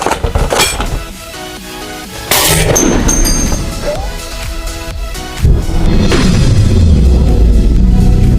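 .50 caliber rifle rounds fired into bins of kinetic sand ring out as several loud, sharp blasts with booming echoes, about three in sequence, the last rolling into a long low rumble.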